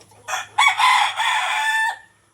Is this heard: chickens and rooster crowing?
yes